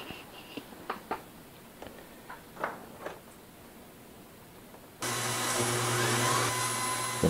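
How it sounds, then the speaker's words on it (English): A Chicago Electric portable band saw cutting sheet metal: a few faint clicks and taps in quiet, then the motor kicks in loud and steady with a droning whine that holds to the end. "I'm going to do that with the bandsaw."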